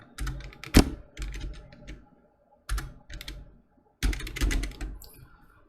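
Someone types on a computer keyboard, several quick bursts of close, crisp key clicks separated by short pauses, with no talking.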